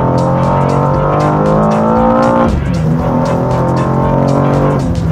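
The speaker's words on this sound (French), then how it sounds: "t'appuies, ça passe, ça te met un petit à-coup de boîte" Loud, close car engine revving inside the cabin in manual M2 mode, with a sharp gear shift midway where the rising engine tone drops abruptly before climbing again.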